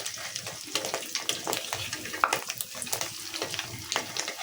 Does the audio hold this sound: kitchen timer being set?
no